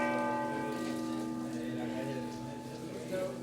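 Bells of the cathedral in Santiago de Compostela ring with steady, sustained tones that hum and overlap, fairly distant, over a soft background wash.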